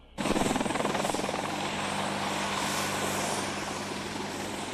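A Boeing AH-64 Apache Longbow attack helicopter roaring in abruptly, then a loud, steady rotor thump and turbine whine held close and continuous throughout.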